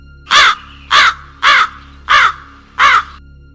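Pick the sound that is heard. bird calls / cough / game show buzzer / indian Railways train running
bird calls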